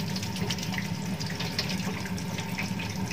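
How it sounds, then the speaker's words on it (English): Tap water runs steadily into a sink while hands are washed with firm rubbing, a continuous close splashing hiss with small flickers of spatter and no voices. "Uses firm rubbing and circular movement to wash the palms, the back of the hands."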